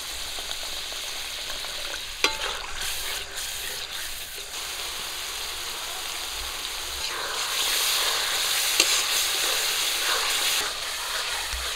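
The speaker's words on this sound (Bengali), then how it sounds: "কষানোর জন্য একটু জল দিয়ে দিচ্ছি।" Spice masala for a pabda fish curry, fried in oil with water just added, sizzles and crackles steadily under scraping stirs, growing louder and busier near the end, with no voices.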